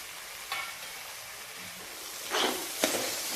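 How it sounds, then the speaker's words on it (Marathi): Spices with salt being sautéed in a pan for street-style pav bhaji, a soft steady sizzle with a few brief stirring scrapes and louder bursts near the end. "तर हे सर्व मसाले आपण चांगले परतून घेऊ।"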